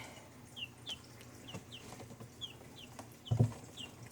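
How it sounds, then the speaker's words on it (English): Young chicks peep in quick high chirps while chickens cluck softly in an indoor brooder shared with ducks, the calls faint and scattered, with a brief low thump near the end. "Some of these chicks are still pretty young."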